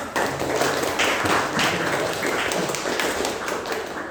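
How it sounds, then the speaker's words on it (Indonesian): A classroom of students claps for a presenting group, a steady dense patter of many hands lasting throughout at a moderate distance. "tepuk tangan dulu untuk kelompok 5"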